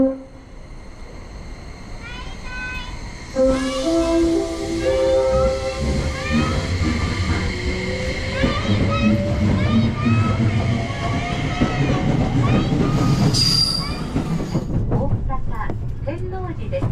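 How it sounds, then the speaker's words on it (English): A Haruka Express train pulls away from a station, a tone-like whistle sounding first, then a rising electric motor whine over rumbling wheels and hiss that grows steadily louder, with a brief high chime near the end. "at exactly the planned departure time, the train leaves the station"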